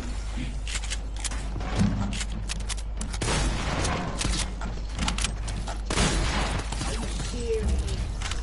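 Suppressed pistol fire in the Fortnite video game, several muffled, rapid shots spread through the stretch, with quieter mechanical clicks and thumps between them.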